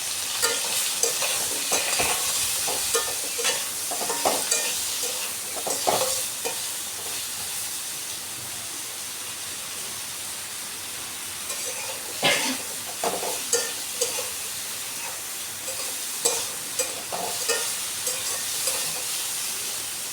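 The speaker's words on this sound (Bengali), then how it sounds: "হলুদ আর লবণটাকে দিয়ে আলু পটল ভালো করে ভেজে নিতে হবে।" Potatoes and pointed gourd fry with turmeric and salt in a pan, giving a steady close sizzle and hiss with scattered stirring scrapes and spatters over twenty seconds, no voices.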